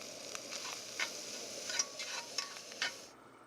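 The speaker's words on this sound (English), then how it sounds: "We're going to brown it up in our Camp Chef skillet here." Amish maple sausage browning in a Camp Chef skillet, giving a soft steady sizzle with a few light scrapes and taps of stirring, heard close and alone before it cuts off abruptly.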